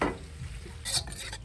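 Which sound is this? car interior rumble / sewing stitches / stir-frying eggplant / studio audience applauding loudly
stir-frying eggplant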